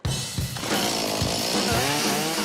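A chainsaw runs loud and close while making a front cut into a tall pole, its engine rising from a brief rev into a sustained, steady cutting drone with no talk over it.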